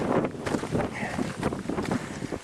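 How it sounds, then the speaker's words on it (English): Steady wind buffeting the microphone, a low rumbling roar that continues throughout without pause. "Sorry about the wind."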